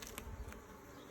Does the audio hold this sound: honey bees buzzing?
yes